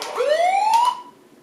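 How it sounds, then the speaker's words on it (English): A battery-powered Huina toy fire truck sounds its electronic siren, a single rising wail that climbs and holds, then cuts off and fades, heard close and alone. "There's your siren."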